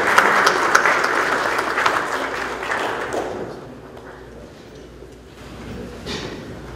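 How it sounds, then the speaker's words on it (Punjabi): A hall audience gives a standing welcome to a member of parliament, with loud, dense applause that starts strong, then fades to a thinner patter of claps near the end. "ਇੱਕ ਵਾਰੀ ਖੜੇ ਹੋ ਕੇ ਪਲੀਜ਼ ਉਹਨਾਂ ਦਾ ਸਵਾਗਤ ਕਰੋ, ਨਿੱਘਾ ਸਵਾਗਤ ਕਰੋ ਪਲੀਜ਼। ਤਾੜੀ।"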